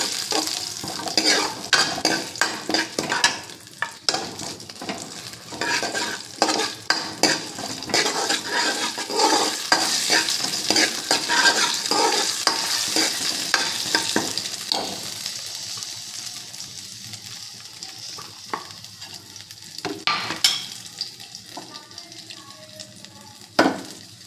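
Drumstick leaves with a pinch of asafoetida fry in a pan, a steady close sizzle broken by frequent scraping stirs and spoon clinks, easing toward the end with a few sharp knocks.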